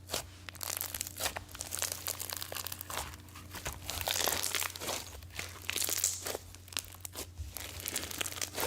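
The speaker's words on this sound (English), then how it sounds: "this right here is why I love foam slimes. That crispy, crunchy" Crispy, crunchy foam slime squeezed and worked by hand, giving a steady run of dense crackling and crinkling pops close up throughout, with no talking.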